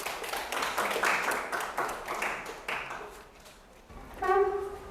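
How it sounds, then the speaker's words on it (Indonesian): Group hand clapping from a classroom audience applauding a student team after their presentation, a steady patter of claps filling the room before trailing off. "boleh tepuk tangan untuk kelompok 1"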